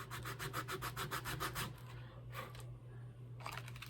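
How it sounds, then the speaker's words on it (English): Sandpaper rubs back and forth along a wooden boat gaff in a quick, steady run of close strokes, which pause and then return as a brief few more passes. "That's about as much as I want to do down with the sandpaper."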